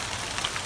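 Rain falling outdoors as a dense, even hiss of drops pattering on surfaces, steady and moderately loud for under a second, with no voices.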